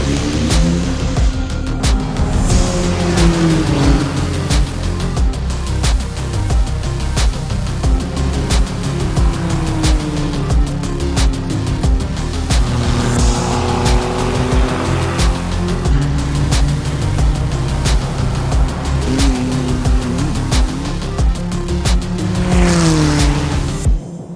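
Formula 3 race cars launching from the grid at the Red Bull Ring, a loud, dense roar of many engines revving high with rising and falling pitch as the field accelerates, continuous throughout with no talk.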